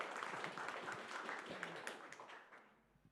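Applause from an audience at a film and multimedia tech hackathon in Jõhvi, a steady patter of many hands that holds for a few seconds, then thins and fades out near the end.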